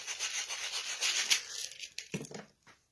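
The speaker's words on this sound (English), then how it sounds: "the whole point of deburring is so when you actually push the PETG tubing in the fitting, that it doesn't take and cut the edges" A PETG tube edge for hardline PC watercooling is deburred by hand, with the tool rotated against the cut end, producing short, close scraping and rubbing bursts that fade out after a couple of seconds.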